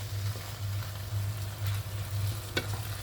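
Food cooking in a pan just after a little water is added, giving a steady close sizzle and bubbling with a low hum underneath and one brief louder clink near the end.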